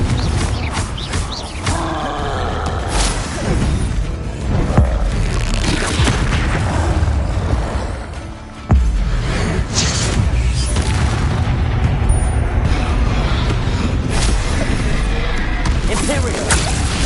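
The Confringo blasting spell in a Harry Potter video game erupts in a dense run of loud booms and crashes, with repeated impacts stacked one over another and a brief gap midway before the barrage resumes.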